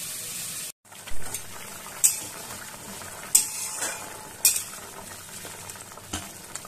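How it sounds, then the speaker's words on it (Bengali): A pot of hilsa fish curry with eggplant sputters and sizzles after a brief silent gap, with a few sharp clinks of a spoon or lid against metal spaced a second or so apart, and no talk. "এবার কিছুক্ষণের জন্য এটা ঢাকা দিয়ে ফুটতে দেবো"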